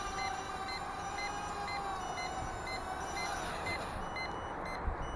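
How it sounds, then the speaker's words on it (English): Hubsan H122D quadcopter and its controller give off repeated high-pitched low-battery warning beeps in a steady, rapid rhythm over constant motor and wind noise outdoors in the snow. "The quad not only starts to beep, but the controller itself beeps when the battery's low."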